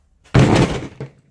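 A brake caliper knocks over a camera stand during a Ford Ranger wheel stud job, giving one loud, close thud with a short rattle and a smaller knock just after.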